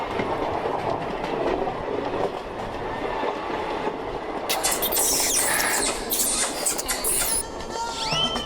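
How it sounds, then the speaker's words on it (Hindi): A passenger train rolls along with a continuous rumble and rhythmic clickety-clack of wheels. Partway through, bright metallic squeals and screeches from the wheels and brakes break out as it slows. "अरे ट्रेन स्लो हो रही है यार। अरे हाँ, ट्रेन रुक सी रही है।"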